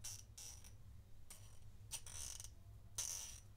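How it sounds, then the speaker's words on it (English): An ICON 3/8 in. drive ratchet, heavily greased, gives bursts of soft clicking at a steady pace, a few separate runs of pawl clicks heard close up over a low background hum. "They put a lot of lube into this ratchet."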